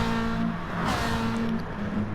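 Monster Energy Ferrari race car in a racing game at Bathurst, heading toward Quarry Bend, its engine droning steadily at close range with a continuous tonal hum and no talk over it.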